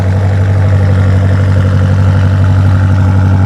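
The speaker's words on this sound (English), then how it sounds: "Listen to that M8." A BMW M8 engine idles close by at a car meet, giving a loud, steady low rumble with an even pulse throughout and no talk over it.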